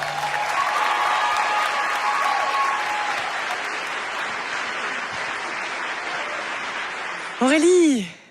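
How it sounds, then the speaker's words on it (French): Studio audience applause fills a French television show, a dense steady clatter of clapping that carries through most of the stretch before a brief burst of closer voices and whoops near the end. "Applaudissements, s'il vous plaît"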